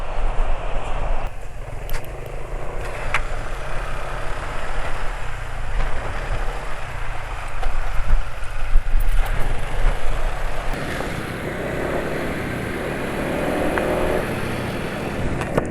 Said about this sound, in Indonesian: ini posisinya suara mesin sudah mulai kasar lagi ya